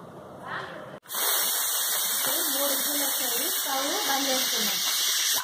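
A pressure cooker whistle vents steam in one loud, continuous hissing rush while mutton curry with tomatoes and water cooks, steady for several seconds after a brief softer lead-in, with a voice talking over it.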